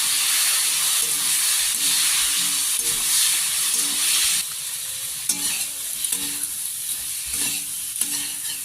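Potatoes and spices with Kashmiri chilli powder and a little water sizzle and hiss steadily in a pan for a Bengali rui fish curry, with stirring scrapes and occasional clatters.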